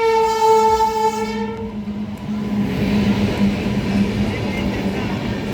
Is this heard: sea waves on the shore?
no